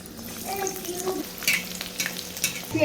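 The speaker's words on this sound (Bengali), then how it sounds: "এবার বেগুনিগুলো ভাজবো" Eggplant fritters (begun bhaja) fry in hot oil in a home kitchen, giving a steady close sizzle and crackle with occasional louder spits and stirring clatter throughout.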